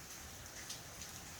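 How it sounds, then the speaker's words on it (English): Steady rain falls on a farm as a dense, even hiss, faint and distant, without pauses or voices. "Rain."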